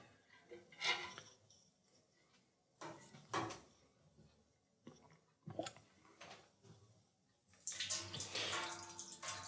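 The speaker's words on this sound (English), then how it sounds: "All we need to do is siphon the beer out of the carboy. And into the keg." Beer siphoned from a carboy into a keg makes intermittent gurgling, sloshing liquid bursts with quiet gaps between them, close by, swelling into a longer steady rush of flow toward the end.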